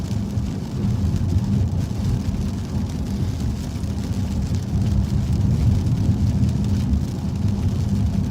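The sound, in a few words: rain and thunder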